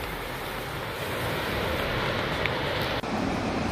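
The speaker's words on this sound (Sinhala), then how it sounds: "මේ තමයි මරේ ඇල්ල." Mare Ella waterfall in Sri Lanka roars as a steady, dense wash of falling water, loud and continuous throughout with no voices.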